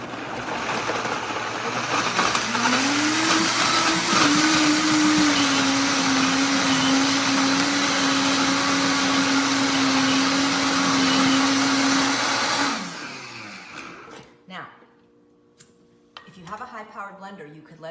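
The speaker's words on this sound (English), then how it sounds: "starting with the blender on low" A blender runs on low blending a cheese sauce, a steady loud motor whir with a rising then sustained hum for about ten seconds, stopping abruptly, followed by quieter kitchen clatter.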